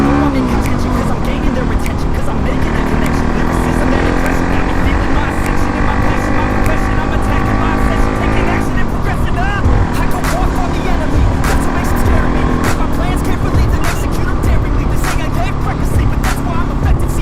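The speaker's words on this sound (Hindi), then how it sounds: "ये देखो गाइस हमारा बाइक" A Bajaj Pulsar NS 200 motorcycle riding on hills, its engine droning loudly and continuously with shifting revs and heavy wind rumble, heard up close from the rider's position throughout.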